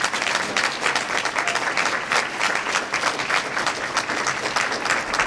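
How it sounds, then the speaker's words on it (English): A school audience gives a round of applause for students at a Martin Luther King essay award event, with dense, steady clapping from many hands that is loud and continuous throughout. "Let's give all of our students one more round of applause."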